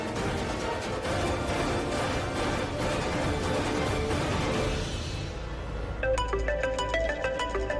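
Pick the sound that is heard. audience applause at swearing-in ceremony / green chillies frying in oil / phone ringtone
phone ringtone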